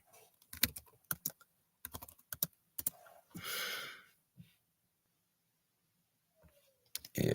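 Fingers tap out short bursts of clicks on a computer keyboard, with brief pauses and a soft sigh-like breath in between, close and fairly quiet.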